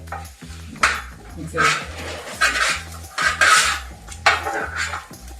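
A metal spoon clanks and scrapes rhythmically around a pan while stirring chicken masala, loud close strokes in repeating bursts, with a dog barking intermittently in the background.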